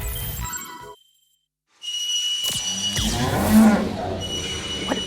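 A farm cow lets out a loud, drawn-out moo after a brief silent gap, with whistle-like tones around it and no voices.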